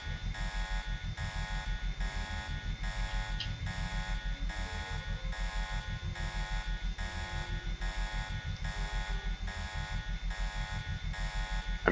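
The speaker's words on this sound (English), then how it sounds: "I'm just waiting for the alarm to stop." An alarm blares in the video game Deus Ex, a loud harsh buzzer pulsing in a steady rapid on-off rhythm that repeats without a break throughout.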